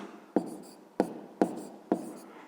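Chalk or pen strokes writing a formula during a fifth-grade maths lesson: four sharp, evenly spaced taps, each with a brief scratchy tail, close and fairly quiet with no talking.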